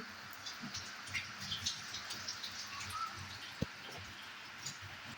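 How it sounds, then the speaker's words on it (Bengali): Rain falls outside while a kitchen fries kofta, a faint, soft patter of drops with occasional light taps and a single sharp knock, heard from indoors. "বাইরে বৃষ্টি শুরু হয়ে গেছে।"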